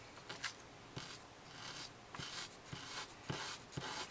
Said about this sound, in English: So I'm going to use a number 400 sandpaper.